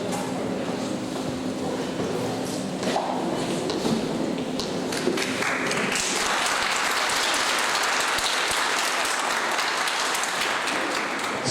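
An audience at a declamation session of an artistic rodeo event claps, with the sound starting amid some tapping and a low hum and then swelling into a fuller, louder round of applause.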